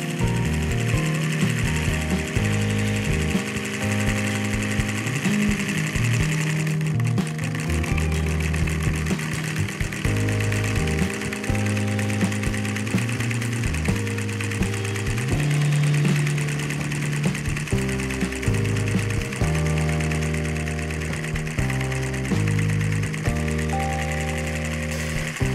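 A Lego boxer engine driving a pulley instead of a flywheel runs continuously for the whole stretch, with a loud, busy mechanical whir and rapid rhythmic knocking and clatter, close up and shifting slightly in pitch.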